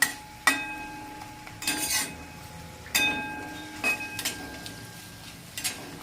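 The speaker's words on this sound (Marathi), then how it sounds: "याला बघा आपण असं मस्त असं हलवून घेतलेलं आहे." A spoon stirs potato bhaji in a pan, giving scattered metallic clinks and scrapes at irregular intervals, close and fairly quiet, with no speech.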